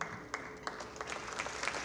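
At an awards dinner, the audience gives scattered, faint applause for the foundation staff, a light patter of claps over a quiet room.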